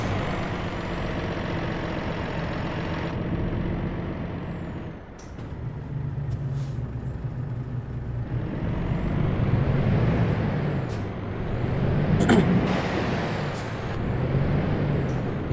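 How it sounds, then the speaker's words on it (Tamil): A heavy truck in Euro Truck Simulator 2 idles with a loud, steady engine rumble, broken near the start by a sharp hiss of the air brake releasing. Later the engine swells and revs up, and beeps and clicks sound through it. "சரி, வண்டி ஸ்டார்ட் பண்ணு."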